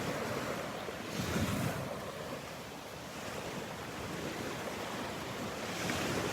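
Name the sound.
ocean waves breaking on a sandbar at the beach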